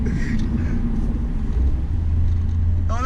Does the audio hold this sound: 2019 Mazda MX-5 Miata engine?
yes